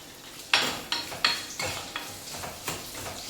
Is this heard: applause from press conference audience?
no